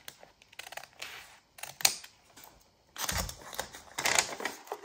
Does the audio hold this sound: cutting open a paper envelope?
yes